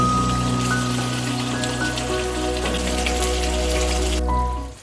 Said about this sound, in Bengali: এবার ভালো করে এই গ্রেভির মধ্যে মাছগুলোকে ফুটিয়ে নেওয়া হবে।